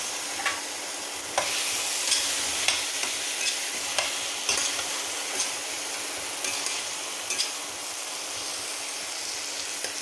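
Onions frying in a pan for bottle gourd kofta, a steady close sizzle with scattered stirring clicks and scrapes throughout, no voices.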